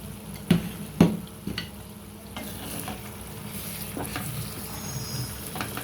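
Beef dropped into a simmering eggplant and tomato sauce, stirred with a couple of sharp clanks of a spoon against the pot near the start, then a steady low sizzle and bubbling carrying on alone.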